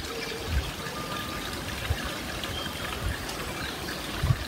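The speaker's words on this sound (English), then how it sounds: "I wonder if you can hear the running water" Steady trickling and splashing water runs continuously outside a cafe, with a busy outdoor wash of sound and occasional soft knocks.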